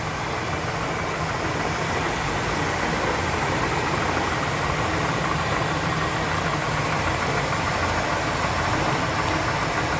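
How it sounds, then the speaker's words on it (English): A 429 V8 engine in a 1967 Cadillac DeVille convertible idles steadily and smoothly for several seconds, a constant low rumble heard up close without any voices. "Hear how smooth that 429 V8 runs underneath there."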